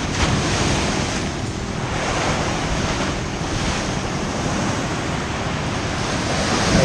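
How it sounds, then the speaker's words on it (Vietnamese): Rough surf and strong wind pound the Nha Trang shore at Hòn Chồng along Phạm Văn Đồng ahead of storm No. 10, a steady, loud, unbroken roar of breaking waves and wind buffeting the microphone. "Tại biển đang động quý vị, đang bị ảnh hưởng."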